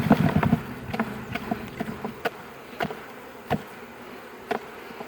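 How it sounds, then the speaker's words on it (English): Honeybees buzz around a hive as they are shaken off a brood frame, a short cluster of close buzzing followed by sparse, scattered knocks and faint hum. "Just gonna shake the bees"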